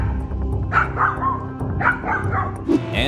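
A dog barks repeatedly at a bear, a string of loud, close yipping barks in uneven bursts over a constant low background rumble.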